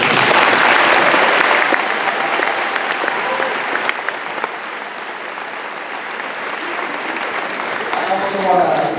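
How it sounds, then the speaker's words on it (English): Loud, full applause fills a room at a jersey retirement ceremony, strongest at first, easing slightly, then swelling again near the end as a voice begins to rise under it. "Please give him a nice round of applause."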